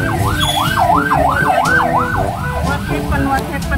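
An ambulance siren on an Indonesian street, loud and close, wailing in a fast repeating up-and-down sweep with traffic noise underneath.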